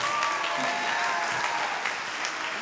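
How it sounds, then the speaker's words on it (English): Audience at a high school Christmas concert applauds as two performers are called up to the stage, a steady, dense wash of clapping from a large crowd with no voices standing out. "Give them a round of applause"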